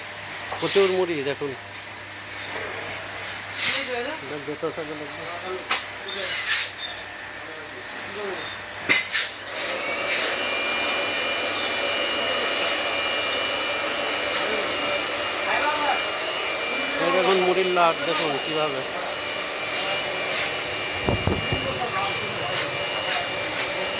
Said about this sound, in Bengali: কীভাবে মুড়ি তৈরি হচ্ছে দেখুন উন্নত মানের সিস্টেমের মুড়ি মেশিন